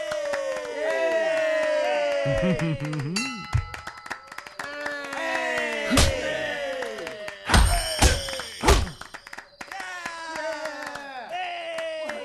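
Punches land in a fist fight in Fable Anniversary, with several heavy thuds and slams scattered through the fight while a crowd shouts and cheers and voices call out.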